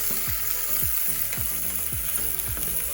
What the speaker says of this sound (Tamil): ஒரு கரண்டி வெந்தயம் விட்டு எல்லா பொருட்களையும் ஒன்றாகவே போடுவோம் போட்டு வடிவா கிளறி விடுவோம்